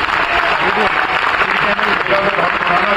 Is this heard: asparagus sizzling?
no